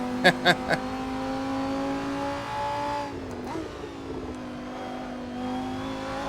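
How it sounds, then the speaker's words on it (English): A Lamborghini Super Trofeo race car engine in a racing simulator at Brands Hatch holds a steady, sustained drone, with a few quick clicks at the start and a brief dip and rise in pitch midway. "I love the sound of this car. It really is a great sounding Lamborghini."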